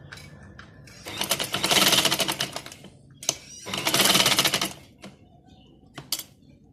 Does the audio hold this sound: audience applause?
no